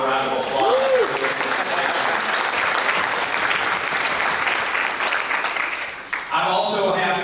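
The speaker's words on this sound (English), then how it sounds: "How about a round of applause?" A summit crowd applauds exhibitors and donors in a large hall, a loud, sustained patter of many hands that dips briefly near the end before a voice resumes over fading claps.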